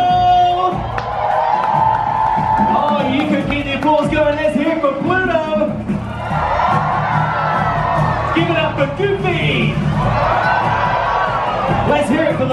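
A large crowd aboard a Disney cruise ship cheers, whoops and shouts for the party patrol, with loud sustained cheering and excited voices, including children, throughout.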